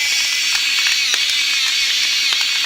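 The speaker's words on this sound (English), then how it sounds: "This is a salt and pepper grinder. I'm just putting salt in right now." A salt and pepper grinder crunches salt in a continuous close, loud grinding burst with faint ratcheting clicks and no pauses.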